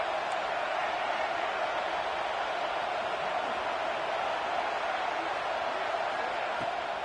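Steady roar of a large stadium crowd at a Texas A&M vs Clemson college football game on a big third down, a continuous dense wash of voices with no clear peaks.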